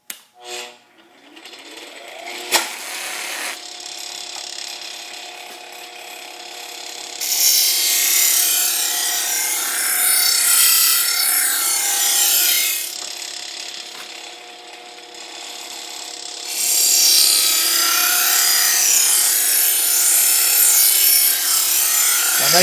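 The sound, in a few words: grinder with waxed paper grit wheel sharpening a blade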